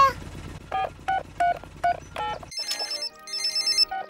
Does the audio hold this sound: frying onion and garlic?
no